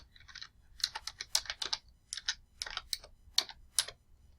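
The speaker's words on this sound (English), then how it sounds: "type Cooking Craft again." Computer keyboard keys clatter in a quick, irregular run of close, crisp taps while a password is entered, about fifteen keystrokes with short pauses between clusters and no talking.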